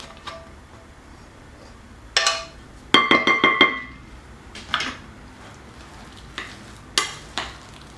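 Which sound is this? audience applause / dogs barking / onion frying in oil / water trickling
onion frying in oil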